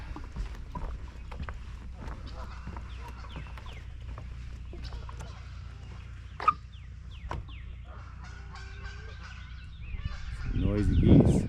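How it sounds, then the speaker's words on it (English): Geese guarding a small island honk and cluck at a distance over a steady low rumble, with a sharp knock midway and a louder burst of noise at the end. "Noisy geese"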